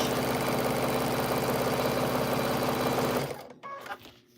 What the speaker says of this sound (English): I sew on both sides of that line 1/4 of an inch.